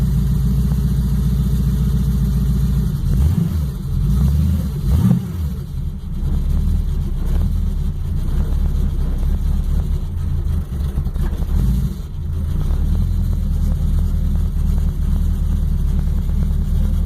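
A worn-out, ragged car with a failing transmission runs in gear, its engine holding a steady loud low drone with a grinding, uneven rumble that swells and dips throughout, no voices over it.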